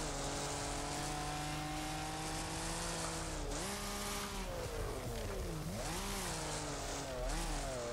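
A car engine in the Wreckfest racing game whines through a drift, holding a steady high drone whose pitch dips and swings twice as the throttle lifts and comes back on, loud and continuous with no talk.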